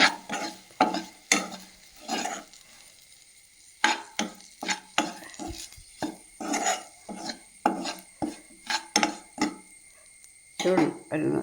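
Masala with chilli powder for a bitter gourd curry is stirred in a pan: close, repeated scraping strokes of a spoon against the metal, with a light sizzle between strokes.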